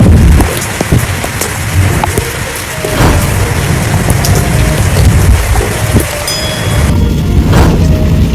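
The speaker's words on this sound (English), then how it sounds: "Heavy rain accompanied by lightning strikes in Marrakesh caused severe flooding around the city" Heavy rain pours steadily during a thunderstorm in Marrakesh, Morocco, a loud dense hiss broken by deep thunder rumbles and booms, with no voices.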